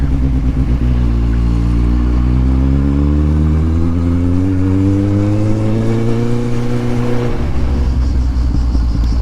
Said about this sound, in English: it's a bit of a walled area, so the exhaust echoes very loudly